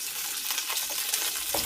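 Green chillies and ginger fry in hot oil with a steady, bright hiss. Soft stirring clinks come through up close, and no one speaks.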